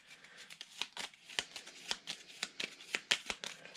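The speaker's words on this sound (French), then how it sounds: "Je vais remélanger" Cards from the Super Mega Lucky Box board game are shuffled close by, with a quick, steady run of soft papery flicks and riffles.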